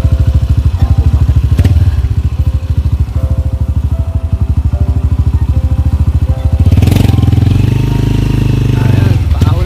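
A motorcycle engine runs close by, a loud, steady rapid chugging that carries on throughout and swells and roughens briefly near the end.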